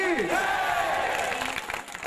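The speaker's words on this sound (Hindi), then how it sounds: "जोरदार एक बार जयकारा लगा सभी लोग तालियों के साथ" A crowd at a Guru Ghasidas Jayanti gathering in Bhopal raises a loud rising jaikara shout, many voices swelling together, then fading into scattered noise.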